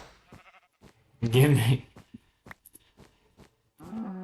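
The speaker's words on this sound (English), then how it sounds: "I can take the wool off of sheep just by hitting them with a snowball." A Minecraft sheep gives one short, loud bleat between brief bits of nearby speech.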